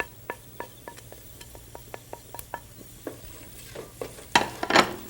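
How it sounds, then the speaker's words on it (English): Turmeric stir-fried in a pan for khichdi: a steady low sizzle of hot oil with a series of sharp spoon-against-pan taps and scrapes, ending in a louder burst of stirring clatter. "fry that around for a second or two"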